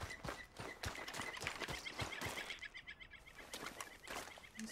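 Horse in the Red Dead Redemption 2 video game: a quick run of clip-clopping hoof beats under game ambience, then a quieter patch of faint chirps and light rustling.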